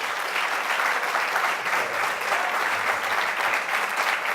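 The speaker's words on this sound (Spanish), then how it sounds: "les pido un gran aplauso para Gabriel y para Álvaro." Sustained audience applause at the end of a public debate on free will, a dense, steady wash of many hands clapping throughout, loud and without talk.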